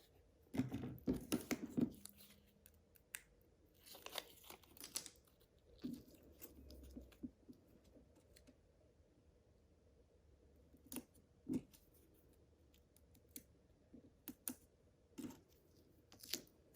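Scissors snip through paper squares for a handmade shaker card, giving a few quiet, close cuts and rustles separated by long near-silent gaps.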